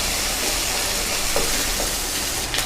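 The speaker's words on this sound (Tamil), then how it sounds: "ஒரு பதினஞ்சு பல் அளவுக்கு பூண்டு சேர்த்துக்கலாம் நல்லா வதங்கட்டும் வெங்காயம்" A steady, dense sizzle of one large onion and about fifteen garlic cloves frying in a pan. The hiss stays even throughout, with faint stirring touches near the end.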